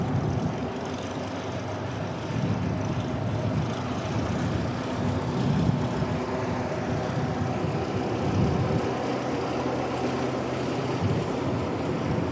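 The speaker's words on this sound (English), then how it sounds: "Cessna 172 just arrived back." A Cessna 172 light aircraft arriving at Christchurch Airport, heard as a steady low engine drone at moderate distance against a broad background rumble, with no voices.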